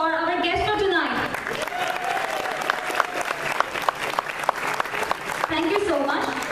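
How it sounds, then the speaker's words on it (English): A crowd applauds a guest at a university student association's annual event, steady clapping with cheers under a voice over the loudspeaker at the start and end, with sharp individual claps standing out through the middle. "can I have a huge round of applause for our guest for tonight?"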